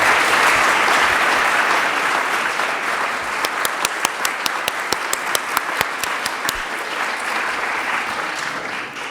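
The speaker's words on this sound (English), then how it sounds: "let's give him a big round of applause for everything he has done." A conference audience applauds steadily for several seconds, a dense wash of many hands clapping, with a few sharper individual claps standing out near the middle before it slowly fades.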